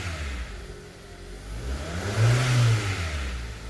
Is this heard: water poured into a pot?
no